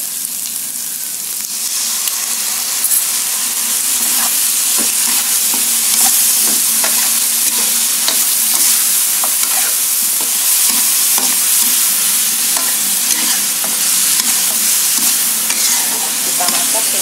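Chicken in lemongrass sauce sizzles and fries steadily in a pan, with repeated scraping and clinking of a spatula stirring it throughout, close and continuous with no talk.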